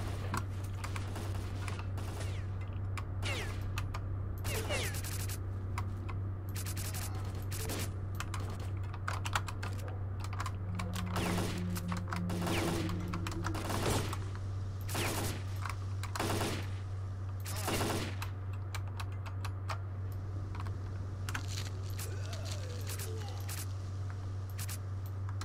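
Gunfire in the video game STALKER Call of Pripyat, with sharp single shots and short bursts popping at irregular intervals over a constant low hum, and a voice talking now and then.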